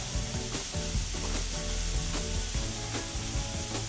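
Fish and hot potatoes sizzling together in a pan, a dense continuous crackle with a steady rhythm of stirring and scraping throughout, loud and close, no speech.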